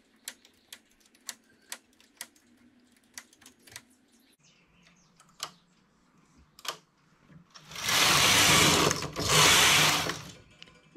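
A knitting machine carriage knits a skirt. Light mechanical clicks and needle ticks come first, then two loud, sustained rushing swishes as the carriage sweeps across the needle bed. No one speaks.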